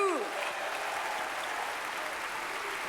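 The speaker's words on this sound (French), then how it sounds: "Applaudissez mon Michou." Audience at a French cabaret show clapping, a dense wash of applause that stays steady and moderately loud throughout, with a brief sung or called-out voice at the very start.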